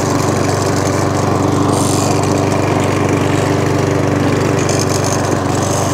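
A Mountfield 464 lawn mower runs with its drive engaged after a drive cable fix, giving a steady, loud, close engine drone with no clattering and holding an even pitch throughout.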